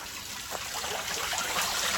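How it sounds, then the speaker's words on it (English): Water runs out of a perforated 8-inch drainage pipe bedded in gravel along a roadside erosion-control trench, a soft, steady trickle and splash with no voices. "You can see and hear the water. Still runs"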